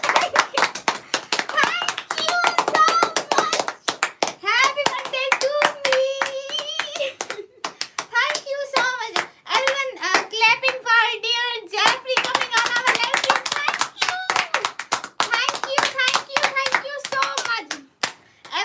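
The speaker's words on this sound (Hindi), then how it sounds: "तालियां।" Hands clapping at a birthday celebration, a dense run of many quick claps that keeps going under children's and adults' voices cheering and singing nearby.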